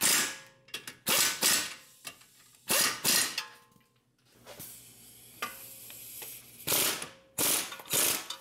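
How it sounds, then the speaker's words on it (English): A hand ratchet clicks in quick repeated strokes while tightening the lower ball joint nut on a VW Jetta TDI, bursts of rapid ratcheting broken by short pauses, close and loud in a quiet garage. "So now I'm going to tighten the lower ball joint nut."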